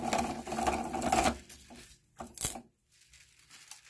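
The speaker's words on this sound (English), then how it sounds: "Just unwinding this spool of copper off of this transformer." Copper wire unspooling off a scrapped power-supply transformer gives a dense, rattling, crinkly scraping for over a second, then breaks into short sharp snaps and tugs, close by with quiet gaps between.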